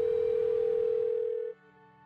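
A steady telephone dial tone hums loud and alone for about a second and a half, then cuts off abruptly, leaving a faint low background hiss.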